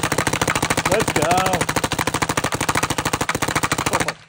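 A pistol fitted with a gloss black Timmy trigger fires a fast, unbroken string of shots, about twenty-five loud, evenly spaced cracks in four seconds, ending abruptly.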